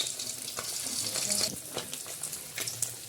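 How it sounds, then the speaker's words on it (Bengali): Chicken skin pakoras frying in oil over low heat make a soft, bubbling sizzle with scattered crackles and pops, fairly quiet and close, and no one speaks. "একে একে এইভাবে আমি সমস্ত পকোড়াগুলো ভেজে নেব"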